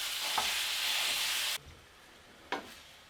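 Ground meat frying in a pan for spaghetti meat sauce sizzles loudly and steadily, then drops away abruptly, followed by a couple of sharp scraping stirs as the meat is broken up, heard close.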